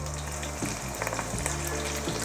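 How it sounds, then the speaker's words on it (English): Spice-marinated meat being sealed in a hot pan gives a steady, close sizzle, a continuous crackling frying hiss with no talk. "So as you can see, we're sealing the meat."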